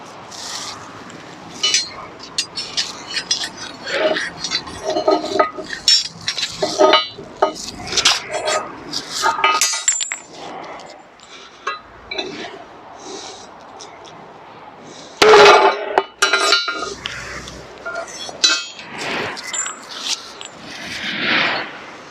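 Sharp metallic clanks and bangs ring out in irregular bursts as a hammer strikes pipe elbow fittings in a crush test, with scraping between hits.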